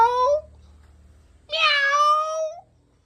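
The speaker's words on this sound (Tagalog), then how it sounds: "Meow! Meow! Meow! Meow!" Two loud, close meows separated by a short pause, the second longer and more drawn out than the first.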